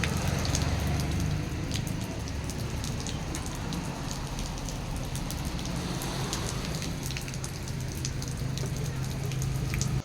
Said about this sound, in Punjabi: ਪੂਰਾ ਮੀਂਹ ਦਾ ਬਣਿਆ ਮੌਸਮ